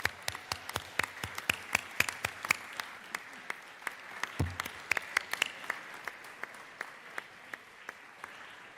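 Applause in the Georgia House chamber as members honor 80 years of service, a moderate crowd of clappers with distinct sharp claps over a softer wash, tapering gradually near the end.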